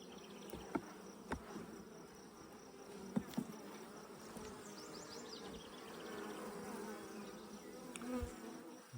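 Honey bees hum and buzz around an open hive during a brood inspection, a steady droning swarm with scattered louder passes close by and faint knocks of frame handling.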